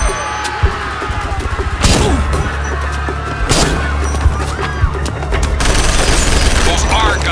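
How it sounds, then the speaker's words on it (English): Gunfire in the video game Act of War: bursts of shots and sharp cracks scattered through a dense, loud battle bed with low rumbling and booms. "Those are gunshots, sir."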